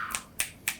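Three crisp finger snaps land close to the microphone at an even, unhurried pace, standing alone over quiet room tone.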